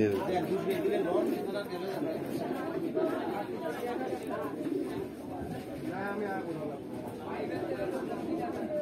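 Soft pigeon cooing mixes into a busy crowd of chattering voices at a pigeon market, a steady murmur of people talking throughout.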